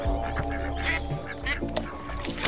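Ducks quack in a scene from the TV series The Sopranos, a few short nasal calls over a steady low musical hum.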